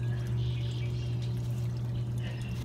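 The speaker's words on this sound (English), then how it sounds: "Let's see if the water's filling up." Water pumped out of an old garden koi pond splashes and pours into the newly built pond, a steady close trickling pour with a constant low pump hum beneath it.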